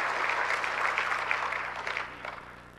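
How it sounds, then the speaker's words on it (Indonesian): Applause from an audience at an Indonesian national business meeting, dense and steady clapping that gradually fades over a few seconds. "Tepuk tangan dong untuk Ibu Bapak sekalian menyiapkan penelitian hari ini"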